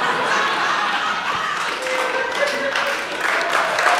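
Comedy club audience clapping during a stand-up set: a dense, steady patter of hands from the crowd, with a little laughter and murmuring mixed in.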